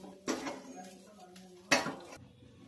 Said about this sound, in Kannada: ಸ್ವಲ್ಪ ಅವಲಕ್ಕಿ ಬಿಸಿ ಆಗೋವರೆಗೂ ಅದ್ರ ಮೇಲೆ ಒಂದು ಮುಚ್ಚಳ ಮುಚ್ಚಿಬಿಡ್ರಿ